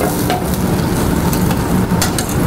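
Curry with seasoning salt and sugar bubbles and sizzles in a pot on an Indian-style stove, a steady, close, loud crackling and bubbling throughout with no talking.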